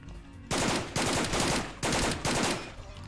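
Bursts of AK assault rifle fire in a video game set in a Stalin-era subway, four or five loud automatic volleys in quick succession, close and dense, with no talking.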